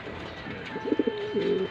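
Racing pigeons coo at their loft, a few soft rounded calls in quick succession close by over a steady background hum.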